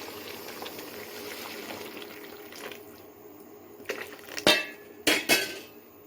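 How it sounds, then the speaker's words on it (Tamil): Measured water is poured into a pot for semiya in a kitchen, with a soft running splash early on, followed by a few sharp metallic clinks of utensils against cookware. "இப்போ அளந்து வச்சுக்கிற தண்ணியை நான் ஊற்றிக்கிறேன்."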